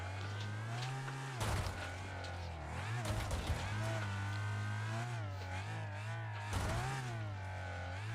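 Race cars in the video game Wreckfest roar around a track, engines droning and shifting pitch as they accelerate and rev, with several sharp surges and impacts over a steady mechanical hum and no talk.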